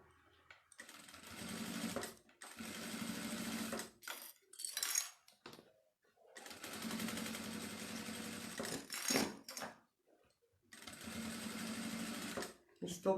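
A sewing machine runs in several bursts of a few seconds each, stitching topstitching along a fabric clutch, with short pauses between runs while someone talks quietly.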